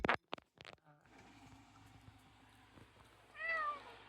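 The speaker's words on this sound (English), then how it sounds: "You guys see this cat?" A cat meows a few short, high calls near the start and again near the end, with household background noise and a person talking softly in between.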